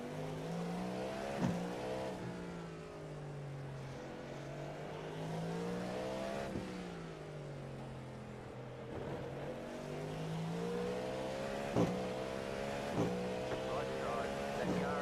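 Race cars howl around the Long Beach street circuit in a racing video game during an endurance event. Engine notes repeatedly climb and drop through gear shifts, close and steady, with occasional sharp clicks.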